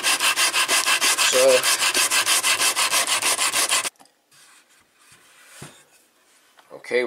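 Steady, rhythmic rasping strokes of sanding on a wooden gun stock, loud and close, running for several seconds before stopping abruptly; a brief voice follows in the quieter remainder.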